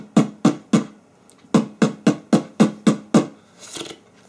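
A beatboxer's mouth imitates a kick drum, giving two punchy thumps, a pause, then a steady run of about eight close, even beats and a softer breathy tail.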